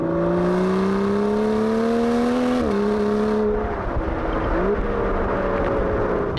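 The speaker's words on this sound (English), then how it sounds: "pop it into Sport Plus mode, the valves on the exhaust at the back will be wedged open" An Aston Martin DB11 V12 growls loud and close in Sport Plus mode, its exhaust note rising steadily, dipping briefly between gear shifts, then climbing again.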